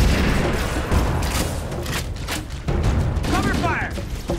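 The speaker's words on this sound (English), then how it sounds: "Don't open fire until you hear the enemy return fire on us." Gunfire in a Halo firefight: rapid bursts of shots and booming impacts rattle on close and loud, with a short lull and then renewed fire, plus faint electronic chirps near the end.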